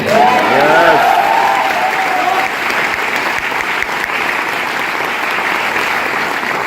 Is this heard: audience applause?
yes